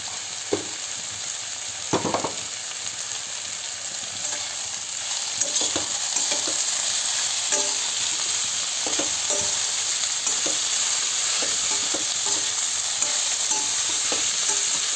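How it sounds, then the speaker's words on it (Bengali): Sliced onions sizzle steadily in a pan while a spatula stirs them, with scraping strokes coming every second or so over a constant close frying hiss. "একটু নাড়তে হয়, নয়তো এই পেঁয়াজগুলো নিচে লেগে যায়"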